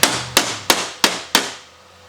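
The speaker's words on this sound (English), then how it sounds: "I'm just kind of hammering it in shape" Five sharp hammer blows strike a metal truck cab corner being shaped, evenly spaced and close. Each ringing impact decays quickly before the next, with no talking.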